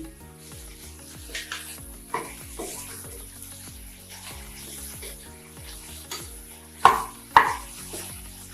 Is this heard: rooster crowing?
no